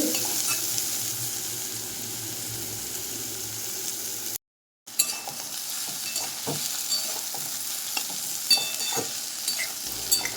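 Neem leaves and eggplant fry and hiss steadily in a pan over low-to-medium heat, with scattered spatula strikes from stirring and a brief dropout to silence near the middle.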